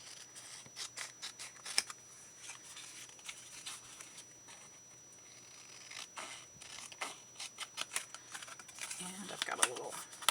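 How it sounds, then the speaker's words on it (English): Scissors snipping through paper while cutting out part of a handmade mini journal, with a series of quick, close, quiet cuts in short bursts and rustling paper between them. "Now we'll cut that part out."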